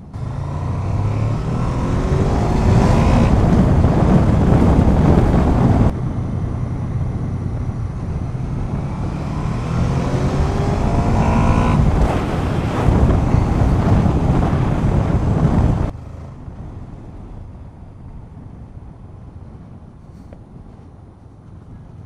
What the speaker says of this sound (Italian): c'è un po' di vento anche, non so se hai sentito prima, ma c'è un po' di ventilato